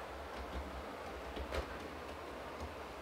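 Class 67 locomotive with a DVT running on a model railway layout, a faint steady low rumble with light clicks of wheels over rail joints throughout.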